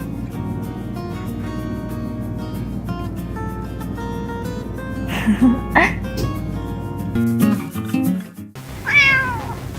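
Convenience store indoor ambience with a steady hum, then a few short cat meows and some brief voice sounds, ending with a clear drawn-out meow.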